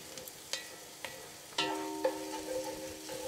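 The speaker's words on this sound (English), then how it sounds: "once we put our onions and our garlic in" Onions and garlic frying in a soup pot: a few stirring knocks, then a sudden louder sizzle that keeps going, close and quiet, with no talking.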